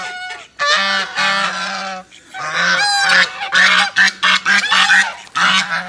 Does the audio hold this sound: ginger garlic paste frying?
no